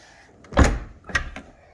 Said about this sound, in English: When you go to shut the door,